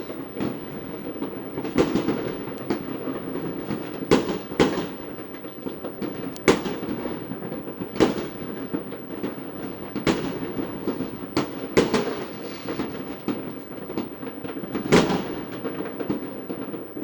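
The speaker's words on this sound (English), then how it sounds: "Now it's many fireworks." New Year fireworks burst in a dense series of loud, sharp bangs, some close and some farther off, overlapping over a continuous crackling and rumbling background with no talk.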